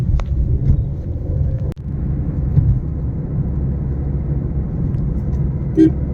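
A car pulls away from an automatic toll plaza, a steady low road rumble and engine hum carrying on throughout, with a brief thump near the start and no talk.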